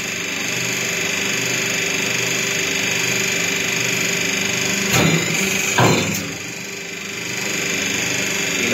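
A semi-automatic single-die paper plate making machine runs with a steady mechanical hum and whine, broken by two brief clunks as the die presses, then the drone dips and resumes.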